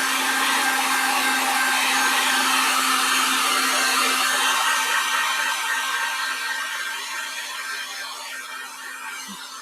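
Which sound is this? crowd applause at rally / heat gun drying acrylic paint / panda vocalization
heat gun drying acrylic paint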